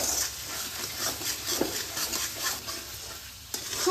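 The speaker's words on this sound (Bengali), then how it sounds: "মশলাগুলোকে ভালোভাবে কষিয়ে নিতে হবে।" Ground spices fried in a pan for a goat liver and jackfruit curry, with a steady sizzle and rhythmic scraping strokes of a stirring spoon, close and loud.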